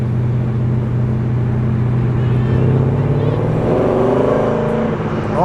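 Soft V8 burble from a Holden VK SS Group A leaving a Sydney car show, a steady, deep, loping engine note that swells near the end as the car moves off, with a voice talking over it.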